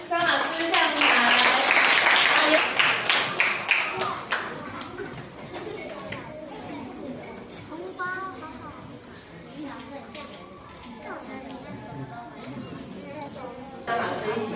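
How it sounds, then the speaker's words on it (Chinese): Loud applause rings out at a school award ceremony as a teacher is welcomed to receive a coaching prize, heavy clapping at first, then thinning into scattered claps and murmured chatter with some talk. "所以我们掌声欢迎"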